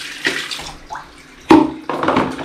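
Aquarium tank water poured in splashing bursts over filter media, about four separate gushes and splashes close by with short gaps between them, no talking.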